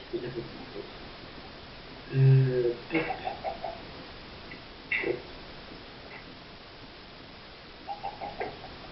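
Faint clucking from chickens in Minecraft plays amid soft clicks and background noise, with a few short bursts scattered through.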